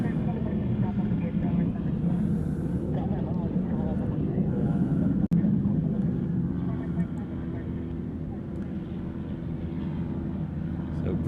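A Lockheed U-2 spy plane departs Honolulu Airport, its jet engines a loud, continuous broadband roar with heavy low rumble that eases slightly toward the end.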